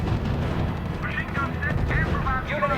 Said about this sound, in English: Unit under sustained fire.